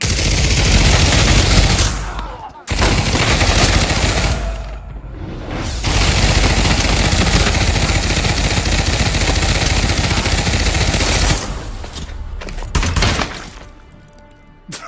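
Automatic weapon fire in the Pavlov video game, with loud sustained bursts of rapid gunshots and short pauses between them, ending in quieter clicks.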